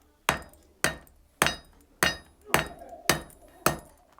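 A hammer strikes metal on an anvil at a War of 1812 historical training site, seven sharp ringing blows at an even, steady rhythm, close and loud with no talk.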